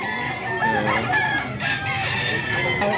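A rooster crows amid chicken sellers, its drawn-out call rising over a busy background of voices and clucking fowl nearby.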